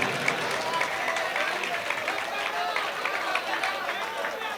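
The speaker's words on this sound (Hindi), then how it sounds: "ताली बजाइए।" An audience at an All India mushaira in Kamthee breaks into fairly faint, continuous clapping mixed with crowd murmur and chatter for several seconds.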